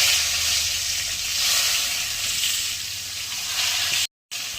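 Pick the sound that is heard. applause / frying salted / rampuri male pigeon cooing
frying salted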